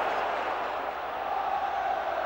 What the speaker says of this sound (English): They stand and applaud all around the stadium.